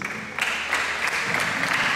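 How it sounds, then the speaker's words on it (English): Applause from a congregation at a chapel service, a steady wash of many hands clapping that swells after a brief start and carries on evenly throughout. "let's give a big round of applause for City"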